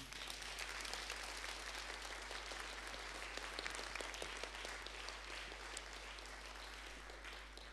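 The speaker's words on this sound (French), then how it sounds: "je pense qu'on va applaudir Jean-Marc pour cette fantastique soirée" An auditorium audience applauds the lecturer after an evening talk, sustained even clapping heard at a moderate distance, with a low steady hum beneath it.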